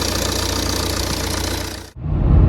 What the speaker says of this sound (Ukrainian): Сам двигун працює рівненько, просто десь щось підпирає, дуже чутно